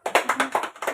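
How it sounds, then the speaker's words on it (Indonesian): Applause for a presenter named Bu Nova at a stunting prevention training session: a short burst of clapping hands with uneven, repeated claps, close and moderately loud, with no talking over it. "Tepuk tangan buat Bu Nova."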